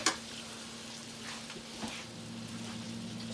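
Beans frying in leftover bacon grease in a pan, a steady close sizzle throughout with faint stirring scrapes and one brief clink, no talking.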